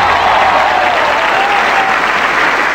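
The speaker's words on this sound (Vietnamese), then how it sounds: "Hãy dành một tràng pháo tay nồng nhiệt cổ vũ tinh thần cho họ" Loud, dense applause from a studio audience at a Vietnamese television variety show welcoming cải lương opera performers, a steady wash of clapping with no talk over it.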